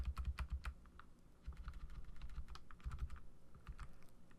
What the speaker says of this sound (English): Arrow keys on the keyboard